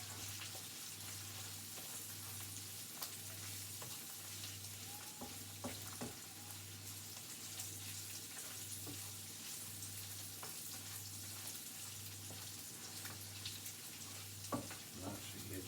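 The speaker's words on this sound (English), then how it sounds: "You just cook it like that. On a high heat, just stirring it around and cooking it" Bacon and eggs fry on high heat in a pan with a steady low sizzle and frequent stirring scrapes, quiet and close, under a faint pulsing hum.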